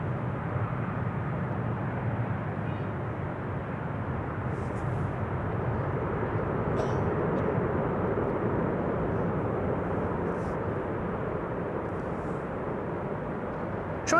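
An airliner, likely a Boeing 777-300, arrives at Amsterdam Schiphol Airport with a long, steady, distant engine roar that stays fairly even for the whole stretch.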